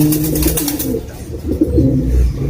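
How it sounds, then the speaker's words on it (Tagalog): Pet pigeons cooing in a loft, a close, steady run of low throaty coos with no voices. "mga alaga nating kalapate"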